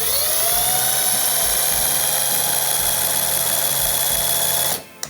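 Dongcheng DCPL208 cordless impact driver spinning at its lowest trigger speed: a steady, close, high-pitched motor whine running unbroken for several seconds before cutting off abruptly.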